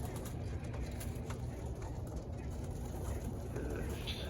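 Pigeons settling into a small rooftop loft, giving faint cooing amid a steady, noisy outdoor background that runs throughout.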